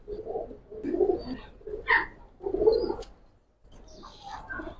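Giribaz tumbler pigeons in a loft coo in several separate low, throaty bursts, with brief pauses between them and a faint higher chirp.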